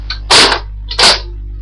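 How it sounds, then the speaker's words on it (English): A Nerf Vulcan toy blaster fires two sharp, snappy shots about 0.7 seconds apart, each a loud pop with a brief mechanical clack, over a steady low hum. "then you fire"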